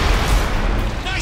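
An airstrike explosion in Red Faction Armageddon: a loud, dense boom with a sustained rumbling roar that fills the whole short moment.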